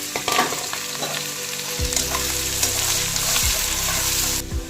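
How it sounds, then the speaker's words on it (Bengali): Onion tipped into hot oil already frying cinnamon and cloves gives a loud, steady sizzle, with a burst of crackling as it lands partway through and low utensil scrapes beneath. "এবারে এইগুলো ভাজা ভাজা হলো, এবারে পেঁয়াজটা ঢেলে দিলাম।"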